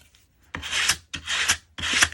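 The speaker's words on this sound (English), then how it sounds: "Burnish that down and get rid of any of the excess glue that might have just spilled out" Three firm rubbing strokes burnish glued paper onto a small matchbox, each a close, dry scraping swipe of about half a second, separated by short quiet gaps.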